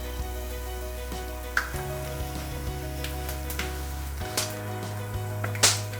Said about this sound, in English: So now the oil has started smoking. We'll add all the spices.